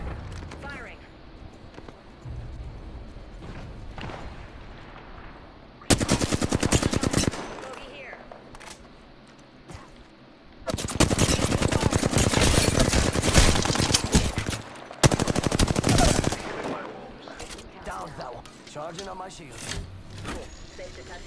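Video game gunfire comes in three loud sustained bursts of automatic fire separated by quieter stretches, with a voice talking over the quieter parts.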